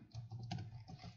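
Brief, quiet burst of several quick keystrokes on a computer keyboard while writing JavaScript code, clicking in an uneven rhythm close by.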